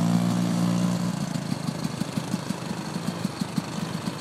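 A vintage Panther snowmobile carrying two riders on a Vermont ride runs with a steady droning hum, then settles into a fast, even chugging pulse at moderate loudness.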